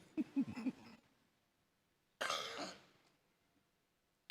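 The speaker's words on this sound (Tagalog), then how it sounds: "Yung pa naman yata ang gamot sa aking ubo." A person at an Ilocano Sunday worship service clears their throat in a quick, close series of rasps, then after a pause lets out one louder, harsher cough that trails off.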